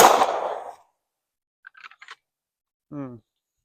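Pistol shots at a USPSA practical shooting range: one loud broadband report fades out over the first second, with short clicks and a brief muffled thump trailing afterwards in near-silence.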